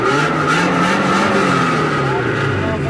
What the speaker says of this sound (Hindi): जो हमने इसमें फ्री फ्लो फिट किया, उसका साउंड सुनिए आप।